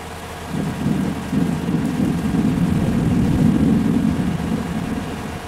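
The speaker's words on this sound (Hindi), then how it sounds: "देख सकते हो कितना तेज़ी से बारिश हो रहा है।" Steady heavy rain in the video game Bus Simulator Indonesia pours continuously with a low rumbling roar underneath, loud and unbroken, with no voices.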